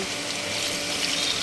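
A brief, steady rush of water pouring into a pan of fish curry, close and continuous for a moment with no talking.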